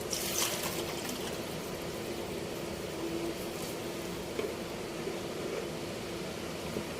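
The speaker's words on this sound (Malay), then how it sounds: "kita campur lagi dengan air biasa" Water trickles quietly into a pot of boiled chicken in a soft, steady stream against a faint background hum, while chicken rice is cooked.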